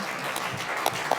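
Brief applause from a small conference audience at a talk on Nantes and the digital city, a soft textured patter of clapping with a few sharper individual claps near the end.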